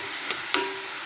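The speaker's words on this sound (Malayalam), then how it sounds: "ഇനി നമുക്കിത് നല്ലതുപോലെ വഴറ്റാം." Ginger and garlic sauté in a pan for an egg roast, giving a short, steady sizzle with a couple of quick clinks or scrapes as the spoon stirs, close and fairly quiet.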